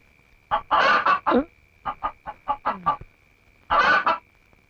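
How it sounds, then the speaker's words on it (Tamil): A chicken squawks and clucks loudly nearby in several agitated bursts, with a steady high electrical whine underneath. "கோழி"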